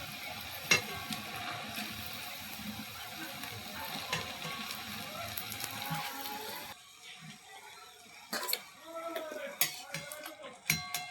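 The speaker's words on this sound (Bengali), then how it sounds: "ভালোভাবে ভেজে নিতে হবে" Flour dough sweets deep-frying in oil bubble with a soft, busy crackle, joined later by sharp metallic clinks of a skewer or utensil against the pan, with faint background voices.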